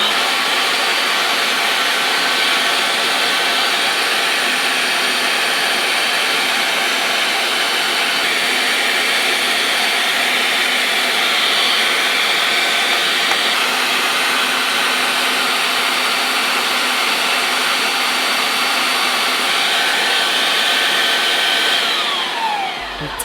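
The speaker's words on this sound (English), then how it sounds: "Put the minced meat into the meat grinder. Turn it on and make sausage." An electric meat grinder pushes minced meat into sausage casing, giving a loud, continuous motor whir that holds steady throughout with no pauses and no talking.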